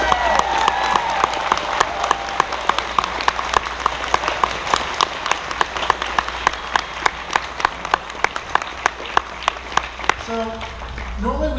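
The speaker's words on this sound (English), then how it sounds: "give them all a big round of applause for all the work they did for you guys" Large convention crowd at closing ceremonies gives sustained, loud applause for staff and volunteers, dense clapping with a few sharp standout claps, a low hum underneath and a voice returning at the end.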